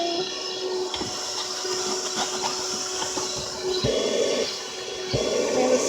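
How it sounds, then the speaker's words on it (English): HOTOR 12-volt 106-watt handheld wet and dry car vacuum cleaner running, a steady close-up motor whine with a high tonal hum and airy suction, the note shifting slightly as the nozzle moves around the car interior. "So let's go ahead and turn this on."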